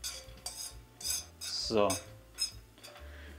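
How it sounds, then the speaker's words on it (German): Angled palette knife stirring pine nuts in an aluminium pasta pan, repeated metallic scraping and clinking strokes in an irregular rhythm, close by, with a brief spoken word mixed in. "Pinienkerne rein und dann nehmen wir dafür die Winkelpalette, mit der können wir die Pinienkerne ein bisschen rumrühren."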